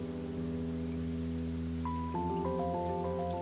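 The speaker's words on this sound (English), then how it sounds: "We have no idea if this rain is dangerous." Rain in the video game Stardew Valley, a steady hiss of falling rain under sustained background music notes, with no talking.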